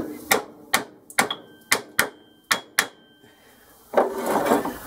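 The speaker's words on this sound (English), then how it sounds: "I'm just tapping the pulley on." Seven sharp taps of a hammer on a wooden block, driving a pulley onto a Boxford lathe drive shaft held in a vise, at an uneven, steady pace, close and crisp, followed by a brief scraping rustle.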